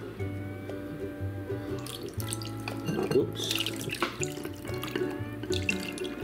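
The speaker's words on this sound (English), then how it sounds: "now we'll throw in the marinade. We'll pour it right on top of them," Marinade is poured over chicken in a bowl for huli huli chicken, giving a wet splashing and dripping sound with some clinks nearby, while a voice briefly exclaims.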